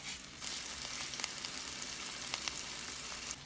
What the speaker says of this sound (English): The garlic is sizzling.